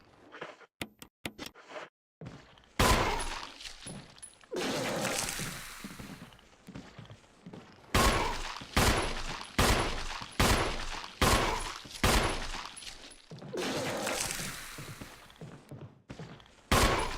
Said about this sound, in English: That was my last pistol bullet as well.